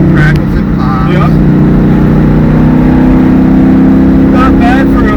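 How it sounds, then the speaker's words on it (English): A 1970 Mustang with a homemade active exhaust revs in a deep, throbbing rumble, held up close and loud, while people talk over it. "you got little crackles and pops"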